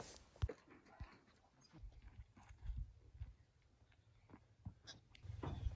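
A dog pants and sniffs close by, with soft scattered snuffles and faint clicks over a quiet background.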